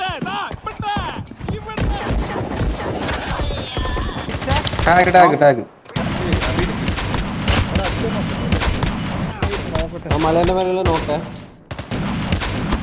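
Rapid bursts of gunfire crack and rattle in a battle royale video game, with automatic volleys and single shots following each other in loud clusters. Someone speaks briefly between the shots.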